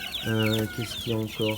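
Cochin and Brahma chickens cluck close by in a farm pen, several short harmonic clucks in quick succession, with a voice speaking briefly among them.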